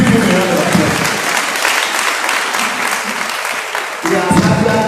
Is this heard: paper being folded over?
no